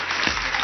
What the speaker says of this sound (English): Mr. Feldenkreis, one round of applause.